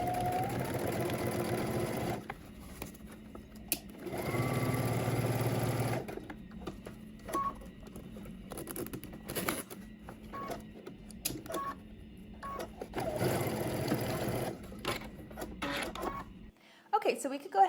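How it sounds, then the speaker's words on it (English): A sewing machine runs in several bursts of rapid mechanical stitching through zipper tape and a fly, stopping and starting, with quieter handling sounds between runs. "we're going to head to the sewing machine and we're going to stitch through the zipper"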